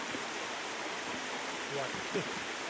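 A creek flows as a steady broadband rush of water, constant and fairly close, with a faint voice murmuring briefly underneath.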